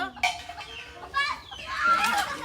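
Several chickens clucking nearby in short bursts, a few louder squawks rising toward the end, with faint background noise.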